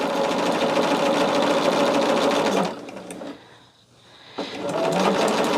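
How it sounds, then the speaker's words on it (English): A sewing machine stitching quilt rows runs loud and steady up close, stops briefly for about a second and a half, then whirs back up to speed. "just keep sewing our rows like this"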